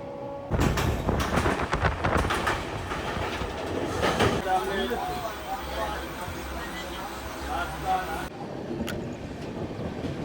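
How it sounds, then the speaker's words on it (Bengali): Howrah Shatabdi Express with a vistadome coach at the rear rushes past, a loud continuous rumble and clatter of wheels with rattling bursts, fading abruptly near the end; voices are heard over it. "এইচপি হাওড়া শতাব্দী এক্সপ্রেস লাস্টে কিন্তু আছে ভিস্টাডোম কোচ এই বেরিয়ে গেল"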